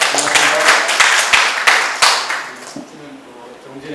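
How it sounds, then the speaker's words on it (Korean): An audience at a university fire-science academic seminar applauds after a lecture, a loud burst of many hands clapping that thins and fades over a few seconds, with some voices mixed in. "다시 한번 우리 좋은 강연 해주신 우리 김학진 교수님께 박수 한번 부탁드리겠습니다."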